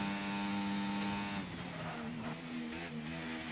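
A Red Bull race car on board for a qualifying lap in Qatar in a racing video game, its engine a loud steady whine with a gear change early on, then holding a high pitch.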